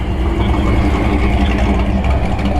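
A car engine at a classic car meet outdoors on the street runs with a loud, steady, close rumble throughout, with no distinct pauses.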